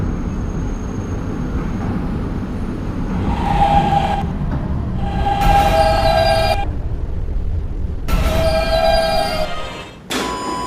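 A K subway train runs between stops with a continuous low rumble and roar of wheels on rail, broken by bursts of bright metallic screeching and squealing from the wheels, all loud and close from the cab.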